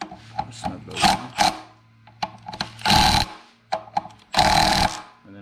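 A power tool on a low setting snugs down bolts on the front forks of a Yamaha Vmax, giving several close, loud buzzing bursts of a second or so each, separated by quieter clicks and handling noises.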